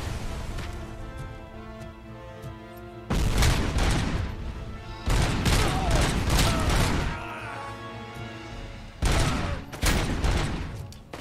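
Grenade blasts and gunfire in the video game RoboCop: Rogue City, several loud booming bursts of explosions and rapid firing separated by quieter stretches of ambient game sound.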